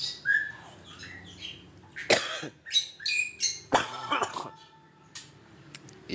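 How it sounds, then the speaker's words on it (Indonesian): A few sharp, dry coughs break out close by beside an aviary, mixed with chirping bird calls in a quiet outdoor setting. "Iya, batuk kering."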